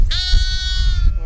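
A sheep bleats once on a farm, a close, loud, wavering call held for about a second with no speech.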